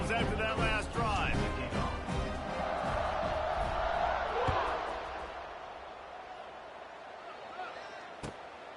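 Crowd at a college football stadium during a Pitt versus UCLA game, a broad sustained roar of cheering that swells and then settles, with a sharp thud near the end and some talk mixed in.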